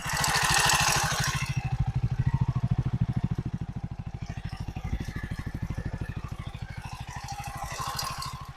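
A self-started motorcycle engine idles steadily with a fast, even putter and a faint mechanical rattle, close and moderately loud, with no talking over it.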